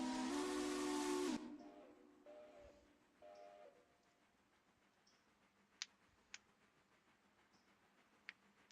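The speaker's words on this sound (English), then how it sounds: "Oh, I hear the train." A steam locomotive whistle in the train game Railroader sounds one loud sustained blast that cuts off sharply, followed by hissing steam and a few sharp clicks in the quiet after.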